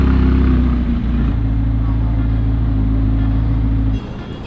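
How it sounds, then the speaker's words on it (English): A car rumbles past on a road nearby, its loud low engine drone holding steady for about four seconds before dropping off abruptly, with no voices over it. "All right, there's a car there."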